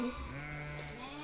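A cashmere goat bleats once in a long, wavering call while being combed with brushes for its fine cashmere fiber; the cry is close and clear, with no talk over it.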